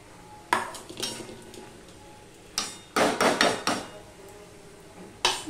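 Metal lid set down on a pan of fish-oil curry on a gas stove, several sharp clanks and rattles spread out in bursts, close and clear with no talk.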